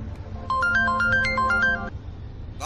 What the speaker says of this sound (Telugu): ఈ టైంలో ఫోన్ ఎవరు?